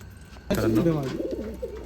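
UAE-imported pigeons coo in a loft, soft throaty calls rising suddenly after a quiet start and continuing close by, with a voice talking over them.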